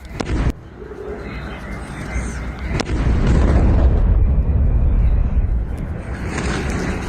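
A sharp bang followed by a loud, sustained rumbling roar of missile-strike blasts in Beersheba, Israel, heavy and continuous, with no talking.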